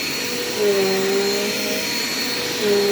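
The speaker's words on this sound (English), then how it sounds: "this happened before to me with this vacuum. It started bouncing a lot." A Dirt Devil Quick Power vacuum cleaner runs close up with a loud, steady motor whine, its pitch wavering briefly twice as the machine bounces on the floor.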